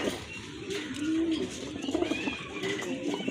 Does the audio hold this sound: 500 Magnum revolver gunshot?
no